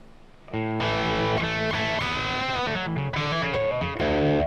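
Electric guitar played through a High Watt amp model in the STL Tonehub plugin, a loud, sustained clean-to-crunchy chord passage with ringing notes and chord changes, played alone after a brief quiet lead-in.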